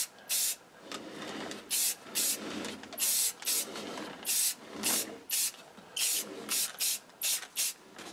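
Quick hissing bursts from an aerosol can of acrylic clear lacquer sprayed over an inkjet-printed decal on decal paper for a machine badge, about a dozen short sprays in steady rhythm, close and fairly loud with no talking.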